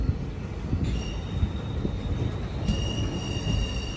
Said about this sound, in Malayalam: രണ്ടാം നമ്പർ പ്ലാറ്റ്ഫോമിലേക്കാണ് ട്രെയിൻ വന്നത്.